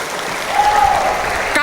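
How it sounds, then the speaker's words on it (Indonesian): An audience at a religious gathering applauds, a broad wash of clapping that swells slightly partway through with a faint voice in the mix. "Tepuk tangan."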